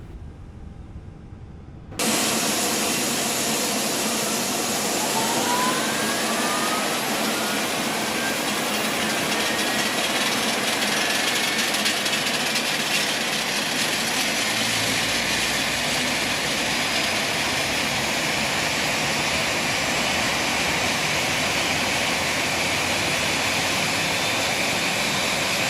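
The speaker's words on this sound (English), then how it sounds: "Starting engine 2." An A320 jet engine spools up on start in Microsoft Flight Simulator 2020, a sudden loud whooshing roar that holds steady with a slowly rising whine layered on top, sustained and alone for about twenty-five seconds.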